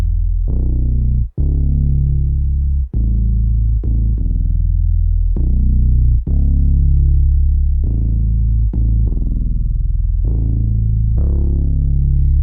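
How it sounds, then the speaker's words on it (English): A deep Moog Minimoog synthesizer bass plays sustained, warm low notes one after another, each held with a slight decay, loud and alone with no other instruments. "For the bass we're using a Moog Mini"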